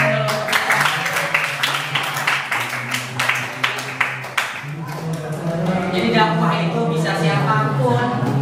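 Hands clap in a classroom lesson, a series of sharp claps in the first half with a voice talking over them, followed by speech and lingering clapping.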